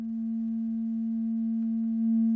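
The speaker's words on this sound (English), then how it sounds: "here goes the sine wave from Rubicon" A sine wave from a Rubicon oscillator runs through the LP FET filter by Feedback Modules, a steady low hum with faint added overtones, holding level and swelling slightly louder near the end, with no talking.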